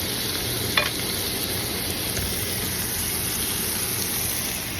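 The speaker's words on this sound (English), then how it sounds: "The vegetable is cooking" Vegetables fry in a pan over medium heat, a steady dense sizzle holding evenly throughout, with one brief clatter near the start.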